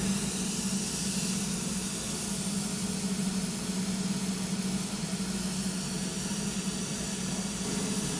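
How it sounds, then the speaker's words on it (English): Aeroseal sealant mist hissing through residential ductwork during a sealing demonstration, a steady, continuous broadband hiss with a low hum underneath, unchanging and fairly loud throughout. "In a minute, you'll hear the mist start coming through the system."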